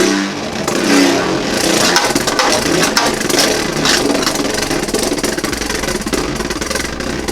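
Beyblade Burst Glide Ragnarok spins steadily on a stadium after a test launch, a continuous whirring, grinding hum with scraping bounces, loud and close throughout.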